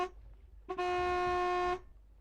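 A single honk from a horn in the video game Amerzone sounds once as a loud, steady, buzzy toot lasting about a second, with quiet background before and after.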